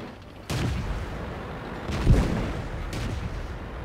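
Cannon fire from an AMX-12T light tank in World of Tanks: a few heavy booms spaced about a second and a half apart over a steady rumbling engine background, with no voices.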